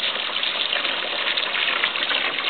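Water pours steadily from a tap or container to refill a Nova Scotia Duck Tolling Retriever's drinking bowl, a continuous close gushing rush with no pauses.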